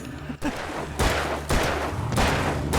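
Repeated bursts of gunfire against enemies in the video game Alan Wake Remastered, loud and close, arriving in roughly half-second volleys with brief gaps between them.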